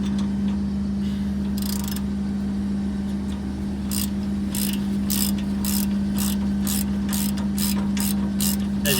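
A hand ratchet clicks in a quick, steady rhythm while tightening the outer tie rod on a 2005 Honda Accord. The close metallic clicking sits over a constant low hum.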